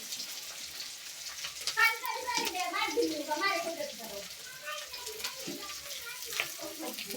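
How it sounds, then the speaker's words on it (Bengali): Chopped onions and green chilies fry in hot oil in a home kitchen, a steady soft sizzle running beneath a voice as she talks over the cooking. "এই যে পেঁয়াজ কুচি দিয়ে দিতেছি, তেলটা গরম হয়েছে।"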